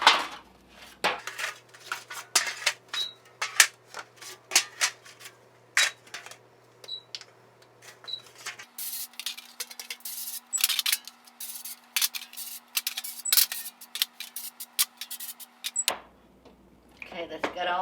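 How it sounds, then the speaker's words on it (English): Metal baking pans being coated with cooking spray in a home kitchen while bread loaves are prepared, giving repeated short hissing bursts mixed with clanks of pans being set down, close by, with a steady low hum underneath. "I'm going to spray my pans."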